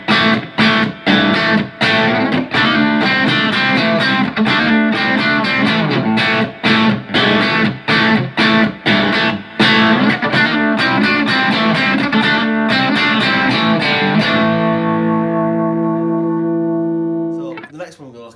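An electric guitar plays a chugging crunch rhythm through a Boss OD3 overdrive pedal set to moderate drive, loud and close with choppy muted strums, ending on a sustained ringing chord that decays into silence before a faint final pluck.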